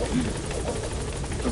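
A steady video game helicopter rotor drone fills the space, a continuous low chopping rumble with no pauses.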